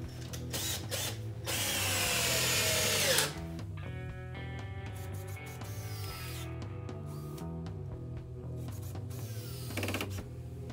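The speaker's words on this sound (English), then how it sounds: "line it up on the sides and start screwing it into the boards" A power drill drives screws into wall boards for garage storage, its motor whining in loud bursts that start and stop, close up, with no talking.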